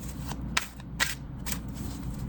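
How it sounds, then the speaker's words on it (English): Tarot cards shuffled by hand during a reading, with three or four quick papery riffling bursts in an even rhythm, close and clear, with no talking. "We're gonna shuffle some more."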